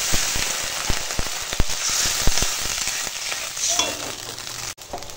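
Water poured into taro masala frying in a pan, a loud hissing sizzle with sharp pops and crackles that gradually settles, no talk.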